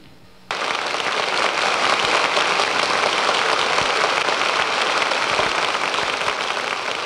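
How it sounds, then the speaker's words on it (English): After a brief quiet moment, an audience in Radio City bursts into sustained, dense applause for conductor Arturo Toscanini's entrance, loud and even like heavy rain until the end. "The applause of our audience here in Radio City announces the entrance of Arturo Toscanini"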